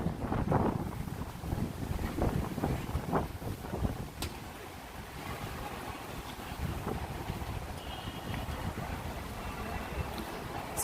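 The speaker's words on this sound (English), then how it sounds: "It is super windy today." Strong gusting wind on a New York City street, loud buffeting rumble against the microphone with faint city background noise throughout.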